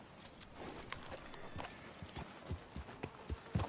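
Horse hooves clip-clop at a walking pace on a town street in Red Dead Redemption 2, steady rhythmic thuds that grow louder and more pronounced toward the end, with no talk over them.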